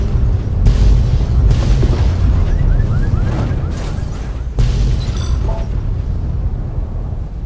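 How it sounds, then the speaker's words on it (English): Several loud explosions burst one after another in Fallout: New Vegas, booming blasts with crackling debris and a few ringing electronic tones, no talking. "I like it when there's multiple explosions."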